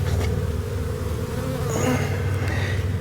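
Honey bees hum steadily around a rain-soaked wooden hive box in a bee yard, a dense, close drone with a few individual bees whining past.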